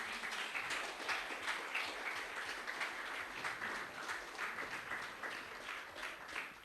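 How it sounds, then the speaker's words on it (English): Steady applause from an audience welcoming a panel onto the stage at an IT and creative-industry event in Moldova; a dense, even wash of many hands clapping continues throughout at a moderate, somewhat distant level. "Keep applauding"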